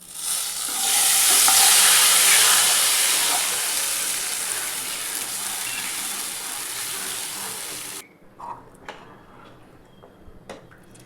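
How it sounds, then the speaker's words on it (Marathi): Loud hissing and sizzling from a pot of kadhi with fenugreek seeds while a spoon stirs, then the hiss cuts off, leaving a few light clinks of metal. "त्याला उकळी येईपर्यंत सारखा हलवत राहायचं"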